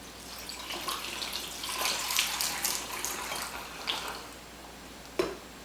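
Water is poured from a measuring cup to make coffee, a continuous splashing trickle that rises and falls for several seconds before tapering off, with a single sharp knock near the end.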